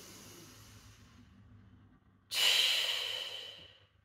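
One slow, quiet inhale is followed by a strong, breathy exhale that comes through much louder, close to the listener, with no talking.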